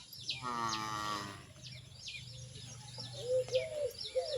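A two-to-three-year-old cow suffering from lumpy skin disease gives one clear, fairly close moo early on. Small birds chirp intermittently in the quiet farmyard around it.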